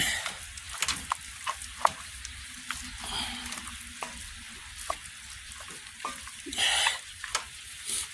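Pre-seasoned food fries with vegetables in a pan outdoors and is stirred, with a steady sizzle broken by scraping utensil strokes and clicks, close and fairly loud.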